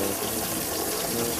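A toilet flushes during a certification-style test with test media, giving a steady, loud rush of gushing water that fills the whole moment without pause.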